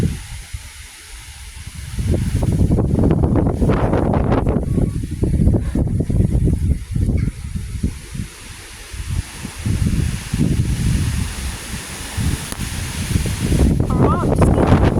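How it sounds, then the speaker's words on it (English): Strong wind roars through trees outdoors in a continuous loud rushing with gusting swells and microphone buffeting, steady for the whole stretch. "But the conditions are still incredibly windy."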